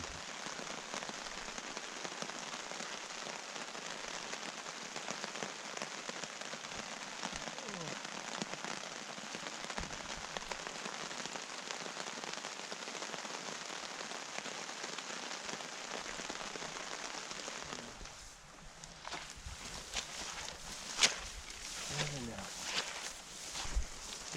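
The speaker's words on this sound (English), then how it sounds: "Still raining." Steady rain patters on a surface at an elk hunting camp in Colorado, close and constant, then thins near the end as a few louder drips and rustles come through.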